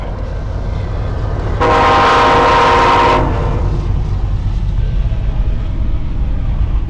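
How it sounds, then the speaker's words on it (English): A BC Rail C40-AM diesel locomotive leading a CN freight train blasts its horn loudly for about a second and a half over the steady rumble of the passing train, then the rumbling continues alone. "C40-AM leading a CN train."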